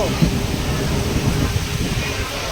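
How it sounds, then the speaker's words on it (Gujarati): Heavy rain pours down in Morbi, a steady dense hiss of downpour that fills the whole clip, with people talking close by over it. "અંધાધૂંધ વરસાદ આવે જોરદાર"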